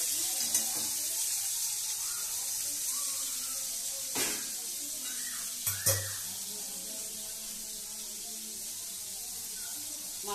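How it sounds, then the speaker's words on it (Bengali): Magur (walking catfish) sizzling steadily in hot oil in a home kitchen, a continuous crackling hiss with a few sharper spatters and clinks partway through, with no talk over it. "তেল গরম হয়ে গেছে, এবার মাছগুলো দিয়ে দেবো। বন্ধুরা দেখুন মাগুর মাছ কিভাবে ভাজে"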